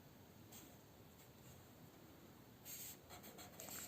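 A coloured pen scratches and glides over paper while redrawing a circuit diagram with resistors, faint and close, with short stroke bursts over steady background hiss.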